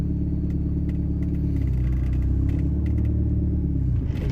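A Volkswagen 1.8T engine with an EPC light fault and no throttle response rumbles steadily at a constant idle-like pitch while the car moves, loud and close, with a faint rattle over it.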